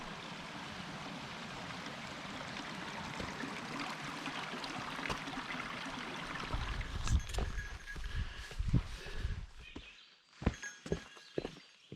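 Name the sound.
small streams of running water on a mountain trail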